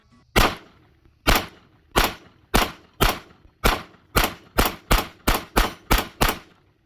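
A Sig P365 XMacro compensated pistol fires thirteen loud, sharp shots, first spaced about a second apart and then quickening into a faster string, close by, with no voices.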